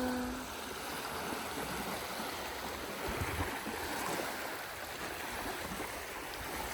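Ocean waves wash continuously at a beach strewn with driftwood, a steady broad rushing surf close by with no voices.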